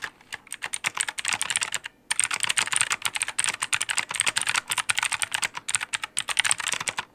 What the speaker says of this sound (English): here's a quick example of how this keyboard sounds straight out of the box